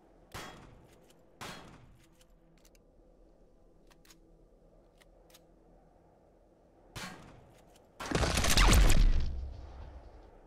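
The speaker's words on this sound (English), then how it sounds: "Use the shotgun for it." Shotgun blasts in the space game Reforged Eden 2: a few sharp, separated reports spaced seconds apart, then a louder, longer roaring burst near the end, with no talk.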